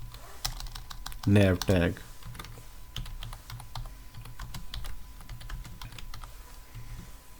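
Steady key clicks from a computer keyboard while HTML code is typed, close and continuous through the clip, with a voice speaking briefly near the start.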